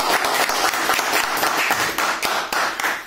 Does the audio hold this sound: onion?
no